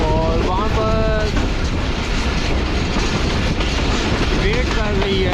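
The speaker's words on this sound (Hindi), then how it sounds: "शालीमार एक्सप्रेस अप्रोच बना रही है Faisalabad dry board railway station घटी पर" The Shalimar Express passenger train in Pakistan approaching a railway station near Faisalabad, loud and close with continuous rumbling and clattering wheels, wind buffeting and tonal squeals, while someone talks over it.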